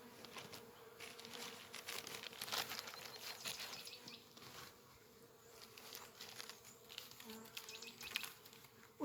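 Honey bees buzz around beehives at an apiary, a dense, continuous hum of many wings with individual insects whirring close past, moderately faint and without speech.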